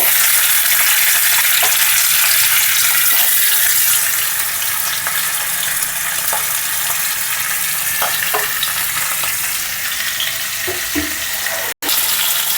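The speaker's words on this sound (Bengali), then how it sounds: "এবার মাথাগুলো ভালো করে ভেজে নিয়েছি" Rohu fish heads frying in hot mustard oil make a loud, constant crackling sizzle with occasional clinks of a utensil against the pan, and no one speaks.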